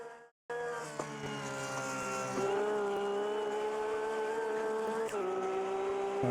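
Race car engine in a racing simulator game, a loud, steady, high-revving drone that briefly dips in pitch twice, as if shifting or lifting off, heard alone.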